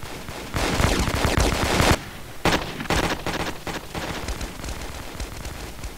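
Rapid bursts of automatic gunfire from the video game Kuboom, a mini Counter-Strike style shooter, loud and dense for the first two seconds, then sharper scattered shots continuing in irregular volleys.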